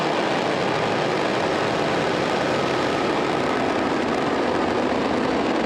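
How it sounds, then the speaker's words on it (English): SpaceX Falcon rocket engines at liftoff from SLC-40, Cape Canaveral, for the NROL-77 launch, a loud continuous broadband roar that stays dense and steady throughout with no pauses or voices. "Engines full power and liftoff."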